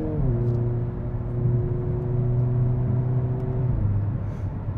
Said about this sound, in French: en conduite sportive, vous entendez aussi le très joli bruit de l'échappement